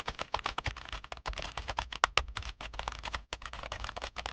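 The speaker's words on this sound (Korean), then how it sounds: "직원 모두 바쁘지만 마우스와 키보드 소리만이 사무실에 가득 울릴 뿐입니다" Office computer keyboards and mice click busily, a dense, fast, uneven patter of close keystrokes that keeps going with only brief pauses and has no voices over it.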